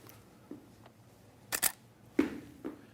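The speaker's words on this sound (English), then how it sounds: "I'm going to slow the shutter speed down now to a 50th." A single-lens reflex camera shutter firing at slow speeds around a 50th and a 20th of a second, several sharp mechanical clicks spaced irregularly in a quiet room, each with a brief double snap.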